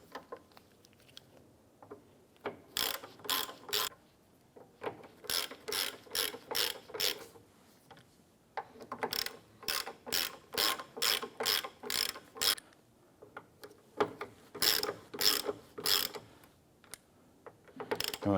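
Ratchet tightening mirror bolts on a 1997-2006 Jeep Wrangler: repeated bursts of quick, crisp clicking strokes separated by short pauses, close and clear with no speech.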